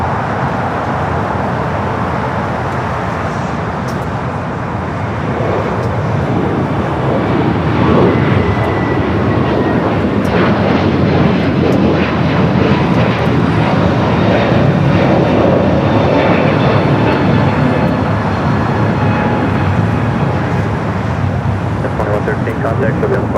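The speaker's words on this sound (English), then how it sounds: "A321neo up next for takeoff." Airbus A321neo jet taking off at LAX airport, a loud, continuous engine roar that swells and holds steady throughout, with broadband rumble and faint radio chatter in the background.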